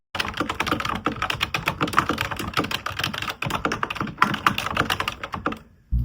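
Fast typing on a computer keyboard while writing a novel, dense irregular clicks and key taps in steady bursts at close range, stopping briefly near the end.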